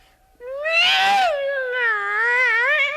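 A cat's yowl, used as a radio drama sound effect, begins abruptly and stretches into one long, loud, wavering cry that rises and then undulates. No voices accompany it.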